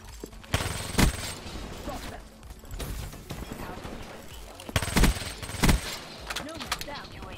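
Gunfire from the Vesper gun in a video game, sharp bursts of shots at intervals across the clip mixed with other game noise, with players talking over the action.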